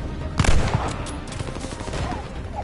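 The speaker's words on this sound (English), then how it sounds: "I just shot you, Peter." Gunfire from Call of Duty Vanguard, a brief burst of loud close shots followed by scattered quieter shots in a busy game match.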